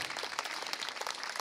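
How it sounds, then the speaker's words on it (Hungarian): Faint, dense applause for graduates at a school graduation ceremony, a steady patter of many hands clapping at a distance with no break. "Megérdemlik a tapsot."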